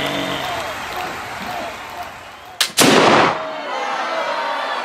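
A Kentucky flintlock rifle fires once at a basketball-themed shooting match: a short pan flash followed almost at once by a loud, sharp report that rings and fades, over a murmuring crowd and an announcer's voice.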